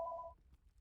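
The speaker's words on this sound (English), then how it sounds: "it is a phone call I unfortunately am certain is spam and I can't do anything about" Short steady telephone tone from an incoming spam call, a single clear beep lasting about a third of a second, then fading into quiet background murmur.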